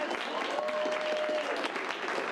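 Theater audience clapping at an improv comedy show, a steady moderate patter of many hands with a brief whistle or cheer rising over it.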